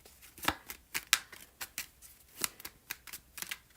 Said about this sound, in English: Oh, I gotta shuffle.